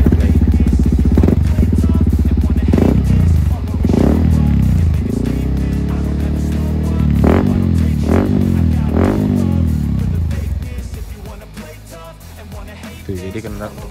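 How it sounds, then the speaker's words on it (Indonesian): A Yamaha WR155 supermoto with a Noctus T5 full-system exhaust idles with a deep rumble, then revs in several sharp bursts that climb and fall back before settling down. "Terus untuk knalpot dia pakai Noctus T5. Coba kita cek sound sedikit nih."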